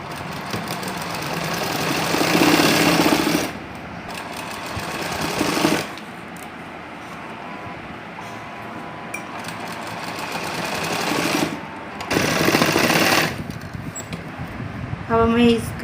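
A sewing machine stitches lehenga fabric in several loud bursts of fast, rattling needle strokes, broken by short pauses between runs, with a quieter mechanical hum between them.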